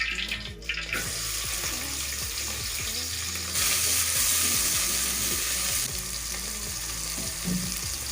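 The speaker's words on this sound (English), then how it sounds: "So I'm going in with my onions." Onions fry in a pan for egg curry with a steady, close sizzle that swells louder partway through, over occasional scraping and stirring sounds.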